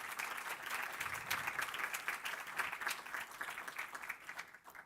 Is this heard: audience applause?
yes